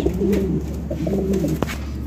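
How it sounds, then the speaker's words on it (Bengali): Pigeons coo in soft, repeated throaty phrases close by at a pigeon seller's, two rounds of cooing with a brief sharp knock near the end. "দেখেন কবুতর দেখেন, কোয়ালিটি দেখেন"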